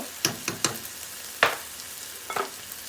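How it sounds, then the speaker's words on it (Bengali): Ground chilli, coriander and cumin spices being stirred in a pan, giving a few soft scraping sizzles in short bursts: three quick strokes, a louder one, then another, with no talk. "এবার আমি মশলাটা একটু নেড়ে দিই"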